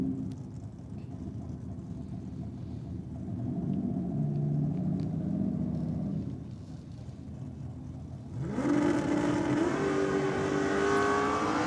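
A Holden VK Commodore makes a drag racing pass at high RPM, its engine roaring loud and steady before it shifts and climbs again to a harsh, rising scream near the end.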